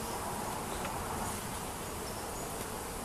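Bees swarm around an open hive during a natural comb inspection, a dense continuous buzzing drone that fills the clip at steady loudness, close and unbroken.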